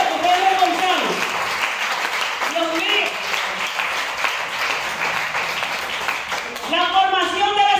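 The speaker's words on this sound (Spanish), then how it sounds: "Den un aplauso al Señor." A church conference audience of Bible school teachers claps in a steady wash for several seconds while a voice sings or speaks over it, rising again near the end.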